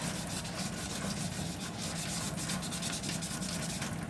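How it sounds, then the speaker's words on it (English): A tumbler cup is sanded by hand before epoxy, producing a continuous, dense rasping scrub with a fairly even rhythm, close and steady with no talking. "just give it a good sanding"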